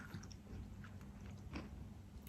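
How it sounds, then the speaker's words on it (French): Someone chews a crunchy homemade cookie made with almond powder and chocolate chips, a steady close crackly munching with small crisp bites, quiet and continuous. "C'est très bon. Ça croustille."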